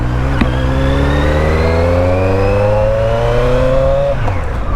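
Kawasaki Z900 or Yamaha YZF-R3 motorcycle engine revving while riding, a loud continuous drone climbing steadily in pitch through one long pull, then dropping off sharply at the end.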